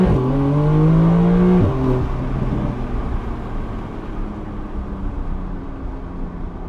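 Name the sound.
Porsche 911 GTS engine revving under acceleration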